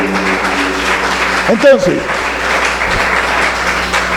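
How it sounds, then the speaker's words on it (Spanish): Congregation applauding in a church service, a steady bed of clapping from many hands with a voice speaking briefly over it near the middle. "Denle ese aplauso al Señor"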